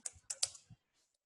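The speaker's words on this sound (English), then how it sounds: "this is a message I'm typing" Quick burst of about five keystrokes on a computer keyboard, close and crisp with uneven rhythm, then silence.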